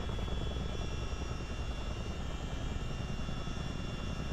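A Chinook helicopter in a flight simulator drones at steady volume with a constant rotor and engine hum and faint high whine, no talking over it.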